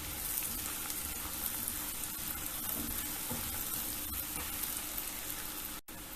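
Asafoetida (hing) sizzles in hot oil in a pan while being stirred, a faint continuous frying hiss with a brief dropout near the end.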